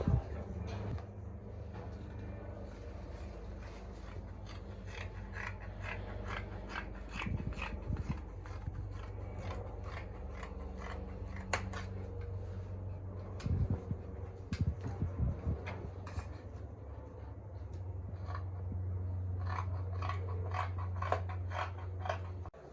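Scissors cutting fabric for a bubu kaftan, quiet intermittent snips and sliding blade strokes in a sewing room, with faint rustling of cloth between cuts.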